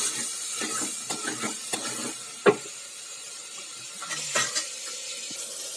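Two hundred grams of small shallots, cut into large pieces, sauté in a pan for a village-style fenugreek kuzhambu: soft sizzling under several scraping stir strokes, with one sharp clack in the middle and a few more near the end.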